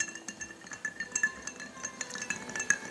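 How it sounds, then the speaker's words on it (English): One big chunk of ice is stirred in a bourbon cocktail, giving soft, quick clinks and light tinkles of ice against glass in a loose repeating rhythm, close and quiet. "And I like to just add 1 big chunk of ice to my cocktail. And give that a stir for maybe 20-25 seconds."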